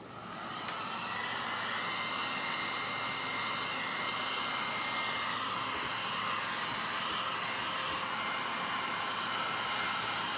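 A hair dryer runs steadily while drying freshly decoupaged wooden letters, a loud, even rushing whir that starts up and holds constant throughout.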